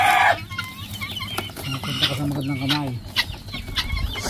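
Chickens clucking in a farmyard, with a rooster-like call rising mid-clip among repeated short clucks, fairly close, with faint voices in the background.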